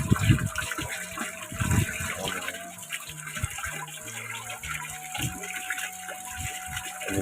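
Clear water rushes steadily along a stream in a rural Sundanese mountain village, a constant close gushing flow with a voice talking over it.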